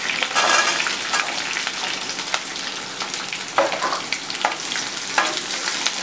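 Small shallots and curry leaves sauté in hot oil for a Chettinad chicken gravy, a close, steady sizzle with occasional stirring scrapes and soft clatters, no voices.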